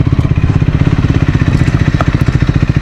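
A Triumph Scrambler 400 XC motorcycle engine thumps along while riding, close and loud, with a quick, even firing pulse and faint clatter throughout.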